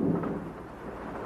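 A film scene of a cold, driving nighttime rain in wartime trenches, with a low rumble of thunder fading over a steady wash of rain, heard alone without speech.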